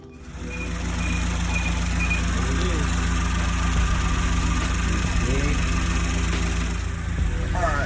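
A turbocharged Mazdaspeed 3 engine, fitted with a Cobb turbo inlet and airbox, idles steadily up close in a garage with a low rumble, a faint high whine running through it, voices briefly audible over the engine noise.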